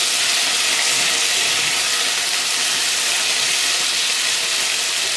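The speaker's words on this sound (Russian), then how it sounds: "Картофель наш жарится правильно." Potatoes frying in a pan with chanterelle mushrooms and onion, a steady, close, even sizzle of hissing oil that holds unbroken throughout.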